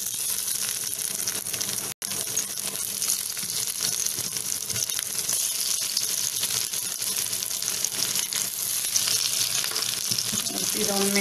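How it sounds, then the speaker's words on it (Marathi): Poha cutlets coated in rava shallow frying in a pan give a loud, dense, continuous sizzle close up, steady throughout apart from one momentary dropout, with no talking. "आता आपली ही रव्यात घोळून झालेली कटलेट आहे हे आपण आता शॅलो फ्राय करून घेऊया"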